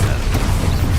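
An Expulso blasting curse goes off in the Hogwarts Legacy video game, a brief, loud burst of rumbling, crashing noise that stays dense and heavy for about a second, with no talking.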